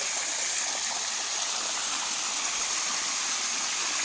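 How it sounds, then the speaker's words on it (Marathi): Irrigation water runs through a farm field in a steady, loud rushing gush, close and continuous with no breaks. "पाणी चाललंय असं"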